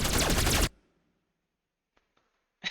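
A gun on an asteroid defense system fires in the space game In Space with Markiplier: a loud, dense burst for about half a second, then near silence with a couple of faint ticks and a brief loud return at the end.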